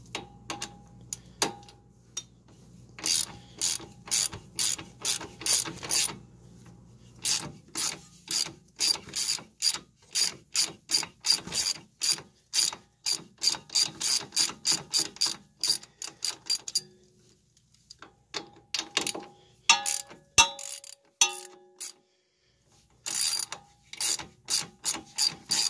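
Ratchet wrench clicking away on a 13 mm bolt during front brake work on a 2001 Chevy Blazer 4x4: long runs of rapid, close, loud ratcheting strokes with brief pauses between bursts, no talking.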